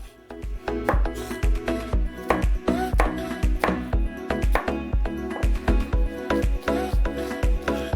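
A knife mincing peeled shallots on a cutting board, heard as a brisk, steady run of close, crisp chops with a few short pauses and no talking.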